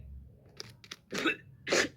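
Two quick sneezes, the second louder, burst out after a few faint, brief sounds in a quiet room, with nobody speaking.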